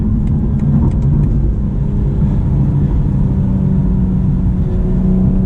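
A BMW M240i xDrive accelerating hard, its engine a loud, steady rumble heard from inside the cabin, with no talking.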